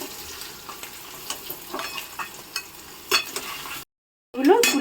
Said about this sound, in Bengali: হালকা করে ভেজে দিচ্ছি।